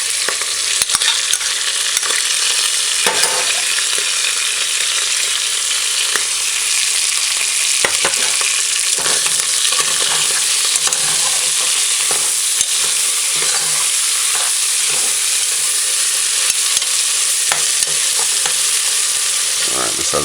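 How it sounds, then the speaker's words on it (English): Pork stew sautéing uncovered in a pot on a stove at medium heat, with a steady close sizzle and frying hiss throughout, broken by occasional stirring scrapes and clinks. "Just allow it to saute uncovered."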